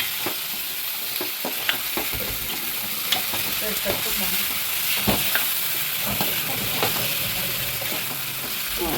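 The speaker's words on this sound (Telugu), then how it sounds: "ఇవన్నీ నెక్స్ట్ రొయ్యలు వేస్తున్నాను" Prawns sizzle loudly in hot oil in a pan for a prawn curry, with a constant close frying hiss and irregular stirring scrapes and clatters throughout.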